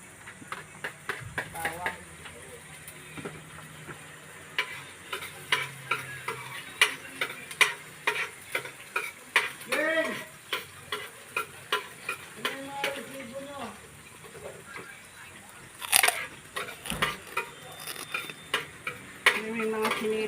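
Tomatoes and garlic sautéing in a pan, a low sizzle under repeated close clinks and scrapes of a utensil stirring against the pan, with a person talking at times.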